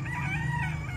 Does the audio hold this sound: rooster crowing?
yes